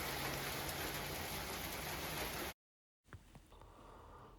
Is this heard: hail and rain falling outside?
yes